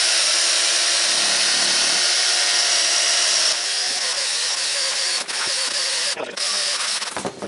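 A power buffer whirs steadily and loudly, its pitch dipping and catching briefly toward the end as it polishes plastic on a Jeep Wrangler TJ.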